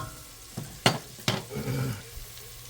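Diced onion with salt and pepper stirred in a pot of melted salted butter, a few sharp scraping spoon strokes over a soft, faint sizzle.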